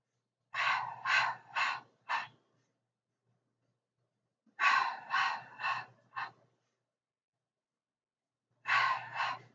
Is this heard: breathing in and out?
yes